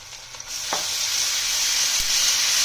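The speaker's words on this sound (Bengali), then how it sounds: "পেঁয়াজগুলো একটু ভাজা ভাজা করে নিয়েছি, রসুন বাটা দিয়ে দেবো।" Onions with garlic paste sizzle steadily in a pan for bhola fish curry, a constant close hiss of frying with a single utensil knock partway through and a soft tap near the end.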